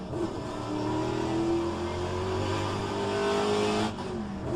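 A race car engine revving at Mont Tremblant in a racing video game: a steady, loud mechanical drone with a rising pitch throughout, heard alone with no talk.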